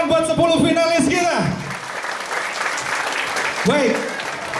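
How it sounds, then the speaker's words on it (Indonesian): Audience applause for ten finalists at a children's preaching competition, a dense, steady wash of clapping that carries on evenly, with a host's voice speaking over it at the start and again near the end. "Tepuk tangan buat 10 finalis kita."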